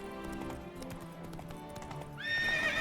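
Geralt's horse Roach in The Witcher 3: Wild Hunt Enhanced Edition clops along with quick hoofbeats, then lets out a sharp rising whinny near the end, fairly quiet overall.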